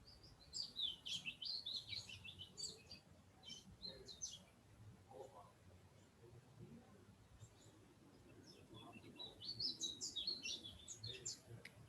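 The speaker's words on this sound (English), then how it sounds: "Can you hear the birds?" European birds chirp and tweet outdoors in a steady, busy chorus of high calls that thins in the middle and swells again near the end, with low ambient rumble underneath.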